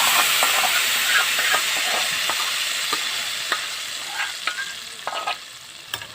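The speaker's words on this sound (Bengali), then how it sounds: "পোস্ত, তিল, কাঁচা লঙ্কা একবারে কষে নেব মশলাটাকে।" Poppy seed, sesame and green chilli spice paste frying in a pan, a steady close sizzle and hiss with frequent scraping stirs of a spatula throughout, no voices.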